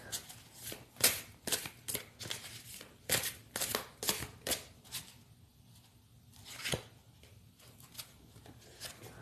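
Tarot cards are shuffled and drawn in a series of crisp, papery riffles and slaps, close by, coming in uneven bursts with short pauses between them.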